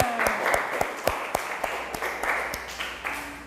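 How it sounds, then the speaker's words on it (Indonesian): An audience in a classroom presentation gives a round of applause, a moderately close patter of scattered claps with distinct sharp individual hits spread over a few seconds. "Beri tepuk tangan"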